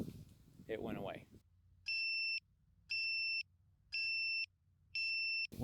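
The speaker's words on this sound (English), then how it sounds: "get like pretty close in to actually hear the beeper" A race drone's locator beeper, downed in a bean field, sounds four evenly spaced, steady high electronic beeps about a second apart, clear and moderately loud, after a brief voice at the start.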